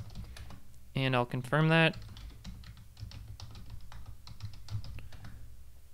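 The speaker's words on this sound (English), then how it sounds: "So I'll go ahead and type that in" A computer keyboard clicks in quick light keystrokes as a database root password is typed during a phpMyAdmin install on an Apache server, close and steady; someone speaks briefly near the start.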